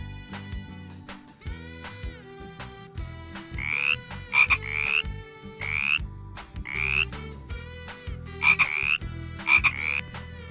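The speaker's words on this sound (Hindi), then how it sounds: "अगला जानवर है मेंढक, जिसे हम इंग्लिश में बोलते हैं फ्रॉग।" Frogs croaking in repeated rasping bursts over a steady chorus of lower calls, fairly close and continuous.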